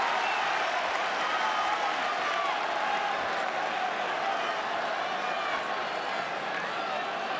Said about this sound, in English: the crowd, the home supporters in fine voice